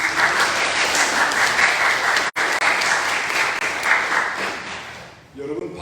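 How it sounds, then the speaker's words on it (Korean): Church congregation applauding to welcome a returning member during a worship service, steady dense clapping throughout that cuts off briefly once and fades out near the end. "여러분 박수가 반박자 늦게 나왔어요."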